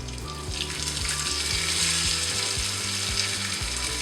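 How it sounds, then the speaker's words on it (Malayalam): Grated coconut sizzles and fries steadily in a pan until golden brown, a continuous close hiss and crackle with no one talking, for Onam sadya erissery made with pumpkin and red cowpeas. "ഇവിടെ കോക്കനട്ട് നല്ലപോലെ മുരിഞ്ഞ് ഗോൾഡൻ ബ്രൗൺ ആയിട്ടുണ്ട്."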